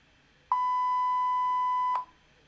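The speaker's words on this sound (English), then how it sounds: "Once you hear the beep, that means that all metal components are earthed." A single steady electronic beep from an electrical tester, clear and mid-pitched, lasting about a second and a half against a quiet background, confirming metal components are earthed.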